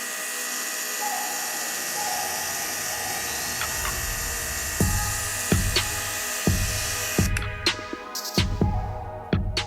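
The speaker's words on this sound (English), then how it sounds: "We'll use the heat gun to amp up the drying between each coat." A heat gun dries fresh paint on a pair of 1999 Nike Dunk sneakers, its airflow giving a continuous whirring hiss. Sharp clicks and knocks grow more frequent toward the end.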